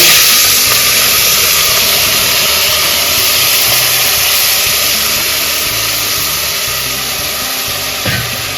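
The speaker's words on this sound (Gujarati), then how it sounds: "લસણ ને હિંગ થી વઘાર કરી નાખવાનો એમ?" Garlic and asafoetida sizzling in hot tempering oil, a loud, close, steady hiss that holds evenly and fades only slightly toward the end.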